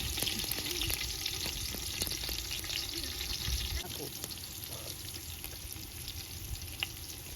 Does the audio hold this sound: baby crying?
no